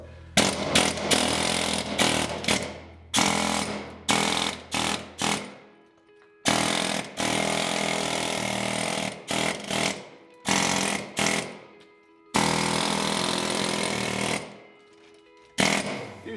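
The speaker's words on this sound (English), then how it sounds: "These pneumatic hammers here, if you have a compressor at home, you can pick those up at Canadian Tire." A pneumatic hammer chisels out old mortar joints, hammering hard and loud in rapid bursts, some short and others held for several seconds, separated by brief silent gaps.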